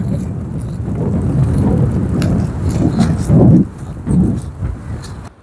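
Dense, rumbling downpour with a heavy low roar, swelling and easing in waves, with faint sharper patters on top.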